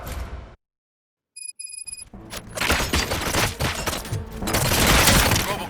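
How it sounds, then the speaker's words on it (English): Gunfire in the video game RoboCop: Rogue City breaks out after a brief silence and electronic beeps, a dense, loud fusillade of rapid shots and booms that keeps building. "Gunshots? What's going on?"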